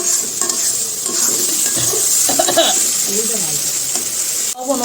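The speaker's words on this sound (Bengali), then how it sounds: "মা যে সব মশলা দিয়ে দিচ্ছি জল দিয়ে এখন ভালো মতন কষাইতেছে" Spices cooking down with water in a pan, with soft sizzling and the scrape and clink of a stirring utensil against the pot, close up and fairly loud.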